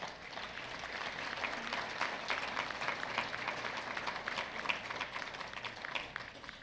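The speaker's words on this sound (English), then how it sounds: "I think that's worthy of a round of applause" Crowd at a media awards ceremony gives a round of applause, a steady, moderately loud patter of many hands clapping together throughout.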